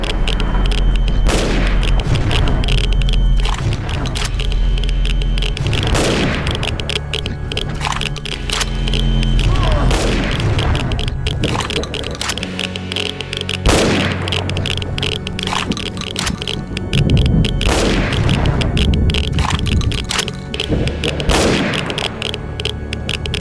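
Pistols, pipe bombs, a flamethrower and a homemade one-shot sniper rifle in a Fallout-style DOOM mod, heard as loud repeated gunshots and booming blasts at irregular intervals over continuous game noise.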